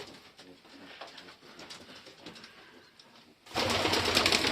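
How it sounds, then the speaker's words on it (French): Strasser pigeons in a breeder's loft coo softly and repeatedly at low volume, and a sudden louder burst of broadband noise, like wing flapping or rustling, cuts in near the end. "Donc ça reste quand même un beau pigeon"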